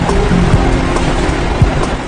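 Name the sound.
Neuse River water in New Bern, North Carolina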